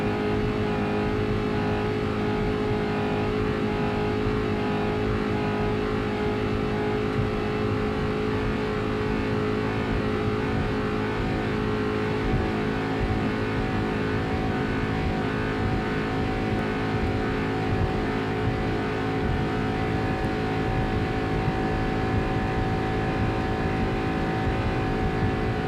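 Engines of a 30 ft Superboat racing powerboat, a 2002 Dirty Cash Racing boat, roar in a loud, dense, unbroken drone for the whole stretch, with small throttle swells and no voices.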